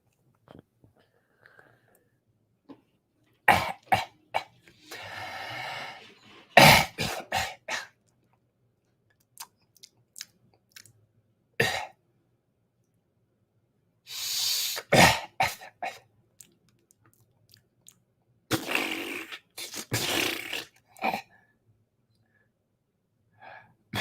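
A person coughs and clears their throat in several separate bursts, close and fairly loud, with quiet pauses between them and no talking.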